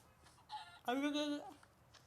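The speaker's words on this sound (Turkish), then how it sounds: "Tavukcuk gel seni buraya öldüreyim." A chicken in a video game gives a short run of harmonic clucks, rising into one louder, strained squawk before it fades, with quiet background sound around it.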